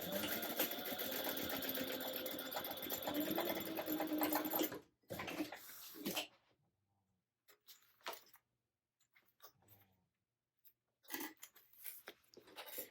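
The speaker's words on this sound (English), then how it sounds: "and then you'll sew a 3/8 inch seam allowance." A sewing machine runs continuously for about five seconds, stitching a 3/8 inch seam with a loud, close mechanical whir, then stops; faint handling sounds and brief shuffles follow.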